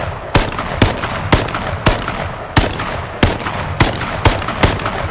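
Rapid bursts of gunfire from the battle royale game H1Z1, about ten loud, sharp shots in an uneven but steady rhythm over constant background noise, with no talking.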